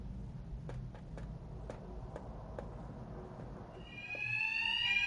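An alarm in a Batman video game starts near the end as a loud, ringing electronic tone with rich overtones. Before it there are a few sharp ticks and a low background rumble.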